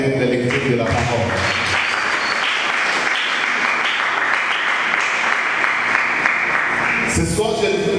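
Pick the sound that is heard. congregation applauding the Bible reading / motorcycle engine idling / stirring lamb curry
congregation applauding the Bible reading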